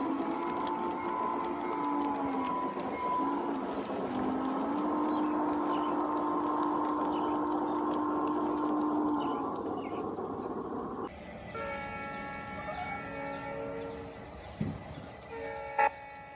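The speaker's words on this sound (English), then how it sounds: "We got out and ran trains as much as we could this spring." A small model train rumbles along on its track with sustained whistle-like tones, then the sound shifts to a clattering, buzzing run with a few sharp knocks.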